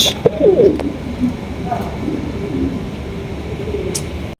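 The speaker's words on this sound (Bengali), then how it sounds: "বিশাল সাইজের একজোড়া ফ্যান্টাল কবুতর" Fantail pigeons coo close by, a few soft throaty calls near the start and middle, set over a low hum of background noise with faint voices.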